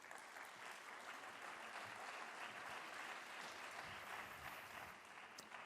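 At the opening of an Ibero-American forum, an audience gives a speaker a sustained round of applause, a dense, even patter of clapping that stays quiet and distant the whole time.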